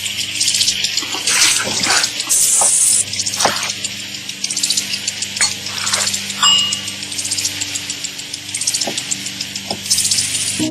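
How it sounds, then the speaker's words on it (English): Tap water runs at a kitchen sink during washing, splashing unevenly with intermittent clinks and bursts against a steady low hum, with no talking. "Clean kitchen surfaces, utensils, and hands with soapy water."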